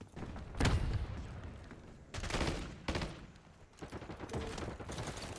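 Quiet gunfire in the shooter Black Ops 6, a few separate bursts and single shots spread across a few seconds over a low background of game ambience.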